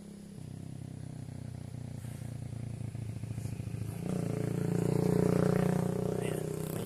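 A motorcycle engine on a village road under construction, a steady mid-pitched rumble that grows louder over the last few seconds as the bike draws nearer.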